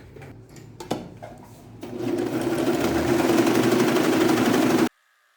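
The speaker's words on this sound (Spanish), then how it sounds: "vamos a filetear acá este orillo por la boca del bolsillo y luego cosemos así" An overlock serger stitches along the pocket edge of a denim skirt, starting with a few scattered knocks and taps before settling into a loud, rapid, steady mechanical whir that cuts off abruptly.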